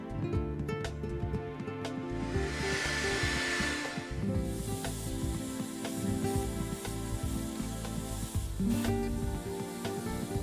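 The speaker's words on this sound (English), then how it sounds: "These are excellent paints and very easy to spray." Tamiya acrylic paint sprayed onto a scale model tank, a steady airy hiss lasting a couple of seconds over a constant background hum, fairly close.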